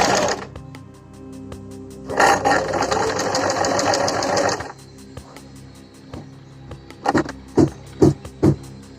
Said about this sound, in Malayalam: സ്റ്റിച്ച് ചെയ്ത് പോരുക.